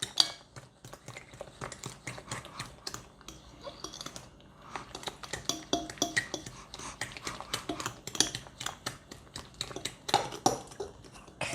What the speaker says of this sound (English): So now pop the yolks and mix again.